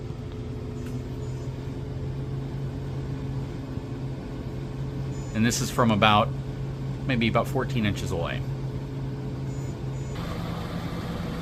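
A Turbro inverter RV air conditioner hums steadily from about 14 inches away. The hum continues under speech and low background noise.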